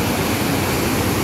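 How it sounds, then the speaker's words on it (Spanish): Swollen waterfall at the Loreto dam after rain, a dense, steady roar of rushing water filling the whole moment. "Vean cómo se ve la cascada en este punto."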